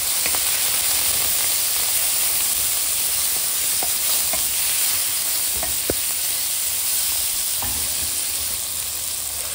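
Mustard paste with garlic and tomato sizzles and fries in a pan, a loud continuous hiss with occasional stirring scrapes and pops close by.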